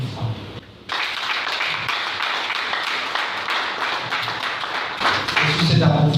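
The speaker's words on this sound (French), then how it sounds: "Merci, je vous applaudis." An audience applauds during a welcome ceremony at a clinic in Parakou, Benin. Dense, continuous clapping fills the room at a strong level, mixed with a voice speaking.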